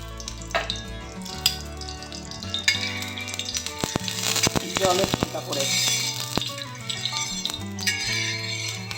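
Mustard oil sizzles on a hot tawa set over a gas flame, a steady frying hiss running for several seconds beneath a prominent bed of background music.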